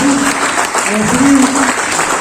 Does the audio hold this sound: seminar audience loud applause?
yes